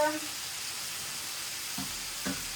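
Garlic cooking in a pan gives off a continuous soft sizzle and hiss, with a couple of faint knocks near the end.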